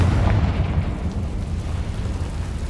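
A Confringo spell explodes in Hogwarts Legacy, a loud low rumbling boom that starts sharply and holds as a dense roar for a few seconds before easing slightly.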